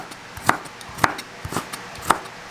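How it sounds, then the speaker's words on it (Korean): A knife slices through bitter melon on a cutting board in a kitchen, a series of about four crisp, evenly spaced chops with lighter taps between them, close and clear with no talking. "안쪽부터 써는 게 끝까지 잘 썰리네요"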